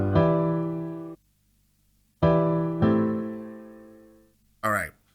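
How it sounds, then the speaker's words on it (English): Piano sample playing clean: a sustained chord struck, ringing and fading, then two more strikes close together decaying slowly, followed by a brief burst of a different tone at the end. "what I did to the piano sample, which sounds like this normally"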